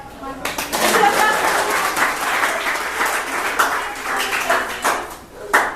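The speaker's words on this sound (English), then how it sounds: "Everyone applaud." Audience applause at a summer interns' charity event, a sustained, loud wash of clapping lasting several seconds with a few sharper claps standing out near the end.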